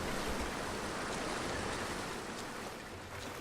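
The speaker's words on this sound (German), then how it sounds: "Jetzt geht das Wasser wieder weg." Water draining away in Rise of the Tomb Raider, a steady, soft rushing wash like surf or a stream that continues evenly without a break.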